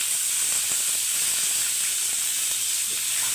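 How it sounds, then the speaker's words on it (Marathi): Steady, loud hissing steam rises as onion, tomato, ginger, garlic and green chili are sautéed with lentils in a pan, continuous and close, with no voices. "तर हे सुद्धा आपण आता छान असं परतवून घेऊ"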